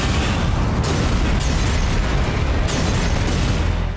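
A blast from an IDF air strike on Hamas positions in Gaza: loud, dense rumbling noise that roars continuously and swells in a few bursts, with no voices.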